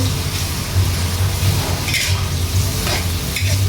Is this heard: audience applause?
no